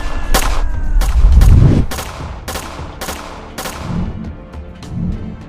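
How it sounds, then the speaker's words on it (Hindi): Rapid blasting gunfire, sharp loud shots cracking in an uneven burst of about eight reports, with a deeper rumble swelling between the early shots. "फातिमा ब्लास्टिंग गन से फायर करने लगती है और मौके का फायदा उठाकर मेहुल"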